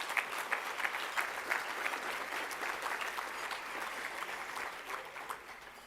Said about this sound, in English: Let's greet them with your applause.